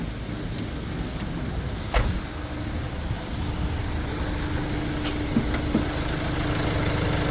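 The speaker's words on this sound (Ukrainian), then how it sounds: "Чиста робота двигуна, ніде нічого не капає." A 2017 Renault Master van engine idles steadily with a low, continuous rumble, joined by a few brief knocks and clicks nearby.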